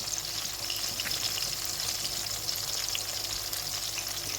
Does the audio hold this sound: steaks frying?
yes